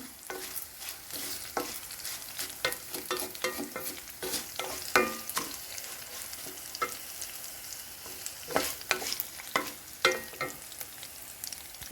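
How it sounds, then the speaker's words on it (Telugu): Cumin seeds fry in hot oil for a curry leaf pickle, giving a soft, continuous sizzle broken by scattered crackles and stirring scrapes, fairly quiet and close, with no talking. "ఇప్పుడు జీలకర్ర వేసేసాను జీలకర్ర ఎక్కువ వేగక్కర్లేదండి"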